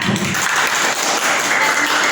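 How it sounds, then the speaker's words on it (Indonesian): Audience applause in a classroom presentation session, a short burst of steady clapping from a group of people filling the whole moment. "silakan beri tepuk tangan untuk teman kita"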